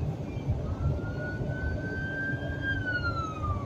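A siren wails on the road as emergency vehicles pass, probably an ambulance among them. Its tone glides slowly upward and then falls away over a steady bed of road and engine rumble, with no voices.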